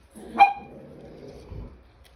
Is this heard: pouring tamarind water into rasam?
no